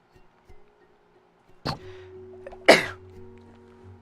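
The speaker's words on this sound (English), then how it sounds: "Sneezing hurts so bad because it like puts all that pressure right on my stitches and stuff." A person recovering from surgery sneezes twice, a short sharp burst followed by a louder, fuller sneeze, close and alone in a quiet room.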